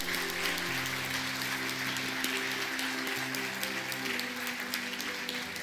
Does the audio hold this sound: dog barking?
no